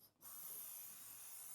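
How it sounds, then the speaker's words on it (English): Air rushing out of a balloon beneath a CD hovercraft: after a brief quiet gap, a steady, even hiss starts abruptly and holds without a break, fairly faint. "Watch what happens when we release the air from the balloon."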